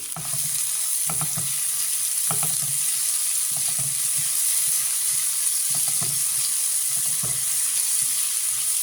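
Urad dal, chana dal and onion fry together in a pan with a loud, constant sizzle, and spoon strokes scrape through it every second or so.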